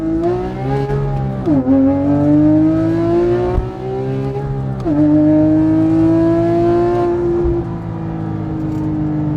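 A Porsche 997.2 GT3 RS engine revs loudly while driving, its rich rasping note climbing steadily, then dipping sharply at two quick gear shifts before pulling up again.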